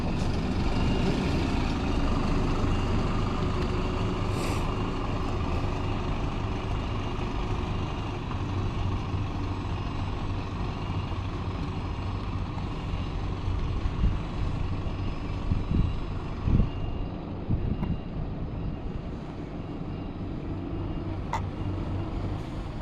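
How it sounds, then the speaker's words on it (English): A DPD delivery vehicle arrives and turns around, its engine rumbling steadily and fairly close throughout, with a few brief clunks and a faint beep later on. "A DPD vehicle coming in. Coming my way actually. Probably to turn around."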